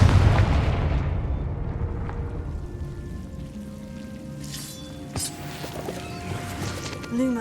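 A Confringo blasting spell in Hogwarts Legacy bursts with a heavy low rumble that fades over several seconds, followed by scattered lighter crackles and a brief tonal game effect at the end.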